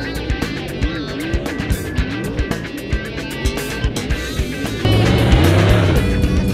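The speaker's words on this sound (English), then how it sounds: "Once the track is ready, the cars jump on the track for warm-ups and inspection." Late model race cars warm up on a circle track, engines revving up and down in repeated wavering sweeps with sharp pops, the roar growing louder and fuller near the end.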